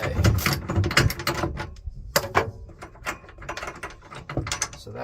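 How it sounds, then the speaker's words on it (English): Wrench work loosening two vertical bolts on a wagon: close, irregular metallic clicks and ratcheting rattles in quick bursts, loud then fading, with short pauses between. "is loosen the 2 vertical bolts"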